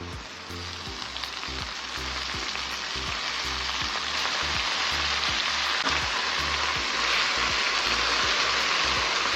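Black nightshade greens frying with onions in a pan, a loud dense hissing sizzle that stays continuous and close, with a faint regular low pulsing underneath and no talk.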